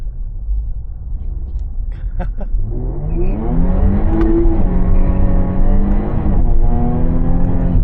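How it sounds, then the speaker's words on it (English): A stock Jaguar F-Type revs hard in a fishtailing burnout, engine roar climbing steeply in pitch and staying loud, with a few sharp bangs or pops early on. "this bad boy was fishtailing burn out"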